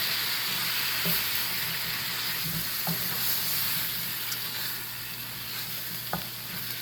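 Potatoes and apples frying in a pan, a steady soft sizzle with occasional small stirring clicks and taps, fairly quiet and close with no voices.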